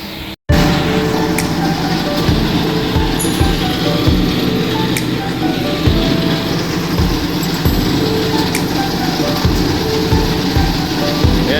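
Concrete batching plant machinery running after maintenance, a loud continuous mechanical rumble with rhythmic low thumps and occasional metallic clanks, steady throughout after a brief cut at the start.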